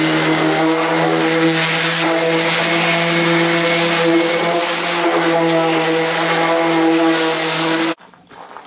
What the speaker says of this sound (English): I just got some 180 grit on the sander and just kind of smooth it up a little bit.